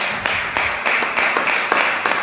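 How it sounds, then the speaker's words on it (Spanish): A church congregation claps in praise, a light, scattered applause with irregular claps, moderately close and fairly soft, with no voices over it. "Denle un aplauso al Señor."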